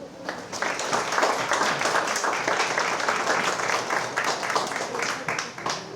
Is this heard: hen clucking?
no